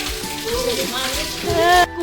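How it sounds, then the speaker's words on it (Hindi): Heavy rain in Delhi, a loud steady hiss of rainfall on the ground with sizzling splashes up close, a few brief background sounds mixed in and a sharp cutoff near the end. "ये बहुत तेज बारिश दिल्ली में"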